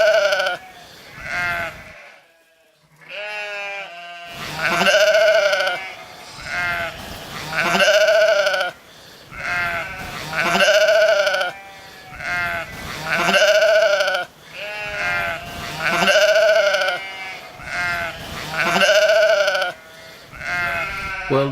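Sheep bleat loudly and close by, a long run of drawn-out, wavering calls that follow one another with only brief gaps.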